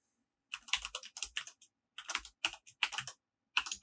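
Password typed on a computer keyboard while logging into a Tenda Wireless N300 router's settings, with quick bursts of crisp key clicks and short pauses between groups, close and clear, with no talking.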